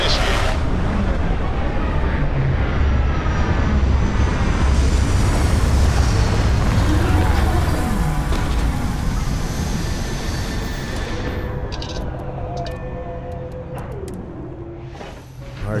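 A spaceship landing in the game Starfield, a loud continuous roaring rumble of thrusters with sweeping tones, fading somewhat and ending in quieter mechanical clicks.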